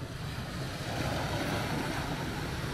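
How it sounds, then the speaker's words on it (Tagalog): Steady wash of sea waves breaking on a beach shore in Mindoro, broadband and continuous with wind noise on the microphone, no clear individual crashes. "Palapitan natin tong alon."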